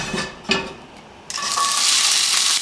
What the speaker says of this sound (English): I'm going to stir fry the vegetables and sweet potatoes